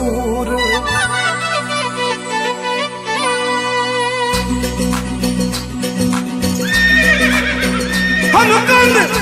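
A horse whinny sound effect rings out within a lively Rajasthani devotional bhajan, set over sung vocals and instruments, with the neigh loud and prominent near the end.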